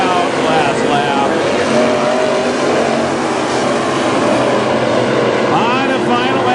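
WISSOTA Midwest Modified race cars roar around the dirt oval at Princeton Speedway on the last lap, a loud continuous engine drone with a race announcer talking over it.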